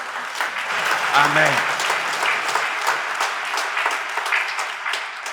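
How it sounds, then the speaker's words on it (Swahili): A church congregation at a Pentecostal service claps loudly and steadily throughout, with a brief spoken word and a short voiced murmur rising over the applause. "Pigia Yesu makofi."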